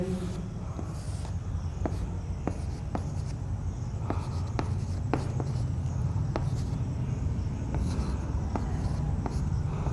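Chalk or marker writing a matrix on a classroom board, a steady run of short scratchy strokes and sharp taps spread through the whole stretch, close and fairly clear, with no voices.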